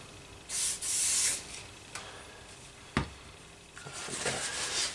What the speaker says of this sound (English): I'm just going to spray the plate here.